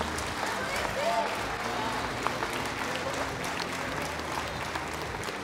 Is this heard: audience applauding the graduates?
yes